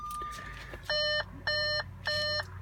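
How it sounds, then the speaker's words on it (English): A 2016 Audi Q5 3.0 TDI V6's headlights-on warning chime beeps three times in an even rhythm, each beep a short electronic tone, close and clear against a quiet interior. "Sorry about the beeping. Headlights are on."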